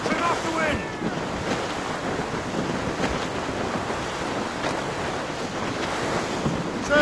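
Squall wind and ocean waves at sea in the video game Assassin's Creed Rogue: a loud, steady roar of wind and surf with continuous rushing noise and faint creaking of a sailing ship underneath.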